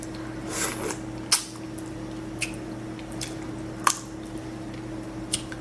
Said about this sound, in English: I'm eating my boiled peanuts because your girl is hungry